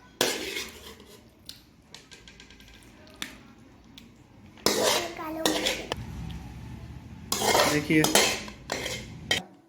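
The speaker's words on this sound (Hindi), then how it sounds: "तो इसको हम सर्व करने के लिए निकाल लेंगे प्लेट में" Masala potatoes (khatta aloo) spooned from a pot onto a serving plate, with repeated metal spoon clinks and scrapes against cookware, louder bursts of clatter in the latter half, and a brief spoken word early on.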